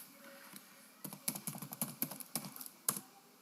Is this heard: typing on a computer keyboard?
yes